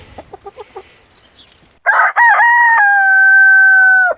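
A young cockerel crows loudly and close, one long drawn-out call that holds a steady tone, preceded by a few soft clucks from farm fowl.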